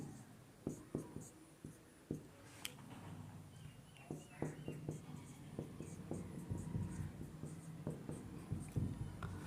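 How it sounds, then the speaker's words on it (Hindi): A pen scratching on paper while a chemical reaction is written out by hand, in short irregular strokes and taps, quiet and close, with no talking over it. "तो चलिए इसको हम पहले लिखते हैं।"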